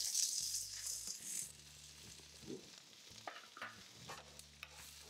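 Onions and spring onions fry in a pan with a soft, steady sizzle and occasional stirring scrapes. The sizzle is brighter and busier at first, then settles to a quieter hiss.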